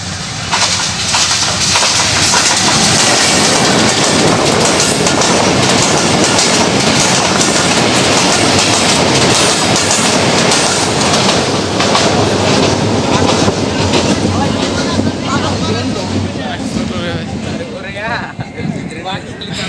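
A small train passes close by on the railway near Karkhana Bazar, Bangladesh, with a loud, steady rumble and clatter of wheels that holds for a long stretch before easing slightly.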